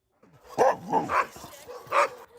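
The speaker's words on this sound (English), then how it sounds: "At Step Up Kennels, the dogs are raring to go for their evening run" Sled dogs at a kennel bark and yip eagerly before their evening run: a few loud, close barks in quick succession with whiny yelps between them.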